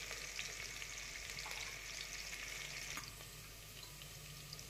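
Chopped onion frying in oil with crackling cumin seeds in a kadhai, a continuous close sizzle with light stirring and no talk.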